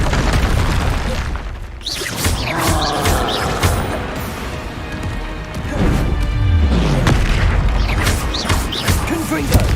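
Repeated Confringo fire-spell blasts in Hogwarts Legacy boom and crash loudly in bursts, with dense combat effects and a voice calling out spells between impacts.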